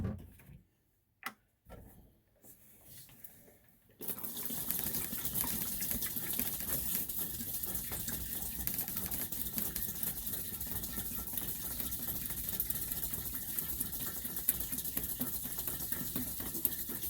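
Antifreeze pours through a camper toilet into the black tank, a steady broadband gush that starts abruptly after a few seconds of near silence and runs on evenly and close until the end.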